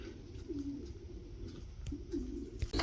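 Racing pigeons coo softly in a loft, two low rolling calls a second or so apart, against a quiet indoor background with faint rustling.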